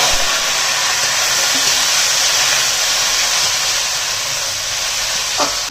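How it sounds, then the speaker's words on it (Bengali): Cumin seeds, chilli and two bay leaves dropped into hot oil give a steady loud hiss of sizzling that carries on through the clip, with a faint clink near the end. "তেলটা গরম হয়ে গেছে, দিয়ে দেবো জিরা, লঙ্কা, 2 তেজপাতা"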